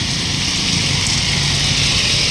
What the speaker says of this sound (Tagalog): Sobrang lakas na naman ang ulan.